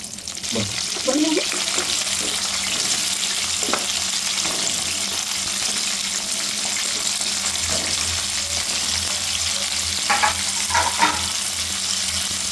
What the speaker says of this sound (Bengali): ওই পুরো তেলটা গরম হবার পর ওই তেলের মধ্যে পটলগুলো ভেজে নেব